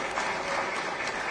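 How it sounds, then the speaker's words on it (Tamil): Audience applause at a Kalam 2024 public talk in Chennai, a steady dense wash of clapping from a crowd, sustained at moderate level throughout without any talk over it. "இதுக்கே செல்லிக்கு ஒரு கைத்தட்டு கொடுக்கலாமியா?"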